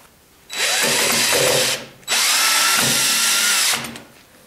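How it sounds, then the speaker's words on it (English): Power drill driving screws into a wooden goblet blank, two loud, close whirring runs of about a second and a half each with a brief pause between. "So we need to put the screws in there."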